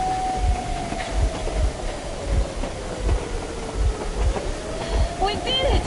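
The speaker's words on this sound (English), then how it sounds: "You're going to ram the train!" A train moves through a tunnel in the Metro video game, with rhythmic low thumps of wheels over track joints and a sliding whine, while voices shout over it.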